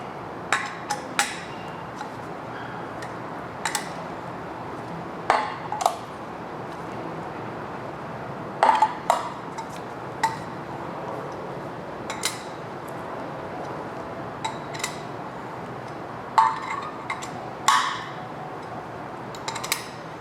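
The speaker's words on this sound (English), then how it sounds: "I'm going to go over it again in the exact same sequence to make sure everything is nice and torqued down" Metal wrench clicks and taps ring out at irregular intervals while valve cover bolts are torqued down on a 5.3L LS LM7 V8, each sharp tick close and distinct over a quiet steady background.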